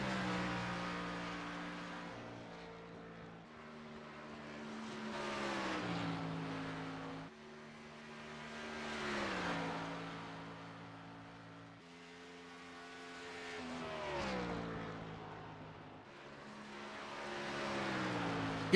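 Racing karts lap a track at Dover at night, engines rising and falling in repeated passes, each whine climbing in pitch as it nears then fading away, heard from some distance.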